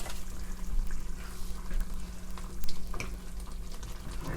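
Tomato thokku simmers in a pan, a steady low bubbling and sizzling texture with occasional soft pops, close by and continuous without any voices.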